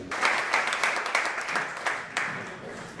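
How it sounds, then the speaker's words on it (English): An audience at a coding bootcamp demo day claps for the teachers and team: dense, sustained applause from many hands with sharper individual claps, filling the room and slowly fading out. "So I would also like to ask for a warm round of applause for the teachers and the team of Wagon Amsterdam"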